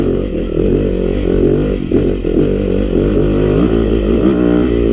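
A Yamaha YZ250FX dirt bike engine drones loud and close, its pitch wavering as the throttle rises and falls over a steady rough roar, with no talking.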